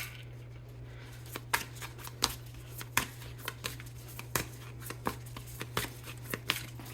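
Tarot cards from a shadow deck being shuffled and handled, a series of sharp papery snaps and riffles repeating irregularly, close and fairly quiet over a steady low electrical hum, with no talking.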